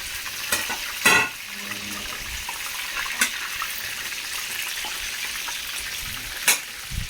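Food frying in a pan with a soft, steady sizzle, broken now and then by a few sharp clatters and stirring knocks. No one speaks.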